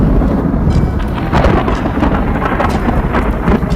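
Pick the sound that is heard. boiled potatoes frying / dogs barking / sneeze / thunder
thunder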